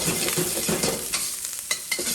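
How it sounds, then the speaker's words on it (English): Rice being stir-fried for fried rice in a hot pan gives a close sizzle broken by rhythmic scraping and knocking strokes of the spatula, several in quick succession, with no talking. "So I want 2 cups of rice in here, and I'm going to stir fry it."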